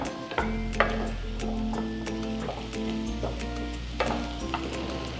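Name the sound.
prawns frying in pan with turmeric, being stirred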